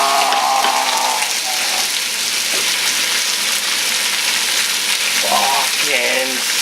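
Chicken teriyaki sizzling on a grill, a loud, dense, continuous hiss and crackle filling the whole clip, with faint tonal sounds briefly rising over it.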